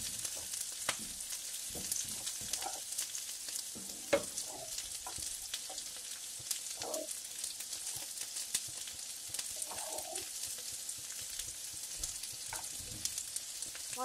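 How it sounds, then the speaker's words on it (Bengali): Turmeric, chilli powder and chopped chillies fry in hot oil in a pan. A constant hissing sizzle fills the clip, with soft scraping stirs here and there, faint and steady, and nobody talks. "এখন মশলাগুলারে ভালো করে ফ্রাই করে নেব।"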